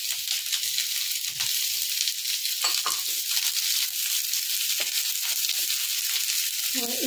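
Sliced onions frying in a pan for chilli potatoes, a dense close sizzle that stays level, broken by a few stirring scrapes.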